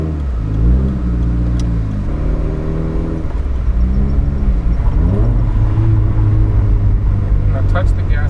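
Car engine fitted with a Tomei Expreme Ti exhaust and a catted Grimmspeed J-pipe, sitting at a loud deep idle and rising in a few revs, with people talking over it.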